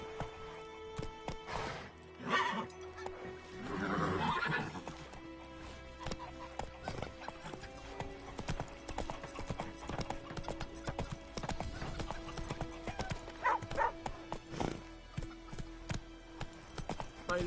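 Roach the horse in The Witcher 3 video game runs with rhythmic clip-clop hoofbeats and an occasional whinny or snort, steady game-audio galloping with faint ambience behind it.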